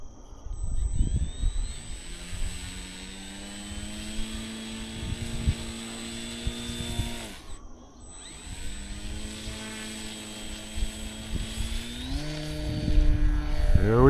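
An FMS Ranger 1220mm RC plane takes off from long grass in wind, its electric motor whining steadily, dropping out briefly midway, then rising in pitch as it throttles up and climbs, fairly close.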